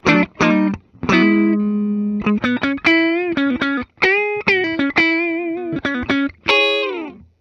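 Electric guitar, a 1993 Les Paul Studio on its middle pickup position, played clean with a bright, slightly scooped tone, picking short phrases of single notes and chords, some ringing out, loud and close.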